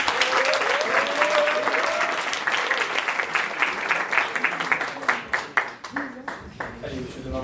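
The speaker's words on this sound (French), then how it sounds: "on vous applaudit bien fort." Audience at an improv theatre show applauding loudly, with a voice over the first seconds, then the clapping thins into scattered individual claps and fades toward the end.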